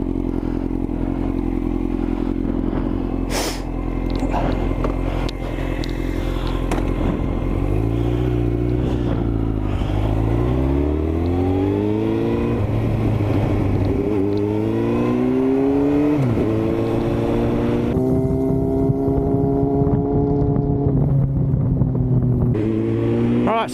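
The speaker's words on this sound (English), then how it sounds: "the Honda CBR 954 RR Fireblade 2003 to be precise" A 2003 Honda CBR 954 RR Fireblade sports motorcycle on fresh tyres, ridden on the road, its engine loud and close throughout, rising and falling in pitch as it revs up through gears and eases off, with steady wind rush.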